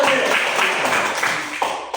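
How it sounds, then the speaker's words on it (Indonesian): Students in a classroom clap for a presenting group, a short burst of scattered applause that fades, with some voices mixed in. "tepuk tangan buat kelompok Santo"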